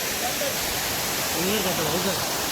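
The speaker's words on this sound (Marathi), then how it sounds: "ओझर धबधबा भारी आहे धबधबा पाणी बघा" Ozar waterfall in Bhirwande, Konkan, sends out a steady, loud rush of falling water, with a voice talking faintly over it.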